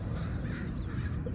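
Crows being fed outdoors give faint, distant caws, a few brief calls rising above steady low outdoor background noise.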